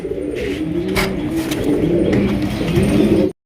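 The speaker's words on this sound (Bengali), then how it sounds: "বন্ধুরা এখানে রয়েছে চমৎকার একজন আফসান গিজের রেসার কবুতর" Racer pigeons coo softly and repeatedly nearby, a low rolling murmur that runs throughout over steady background ambience.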